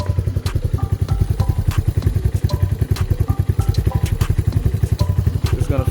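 A Lifan KP Mini 223 OHC 165FMM engine idling low, a steady rapid thumping putter with light mechanical clatter, close and loud throughout.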